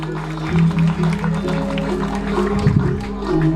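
Audience applause at a Balinese calonarang performance in the outer courtyard of Pura Maospahit: a steady wash of clapping layered over sustained gamelan-like tones, lasting about three seconds.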